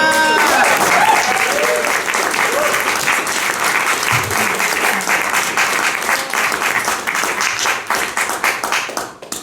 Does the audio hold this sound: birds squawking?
no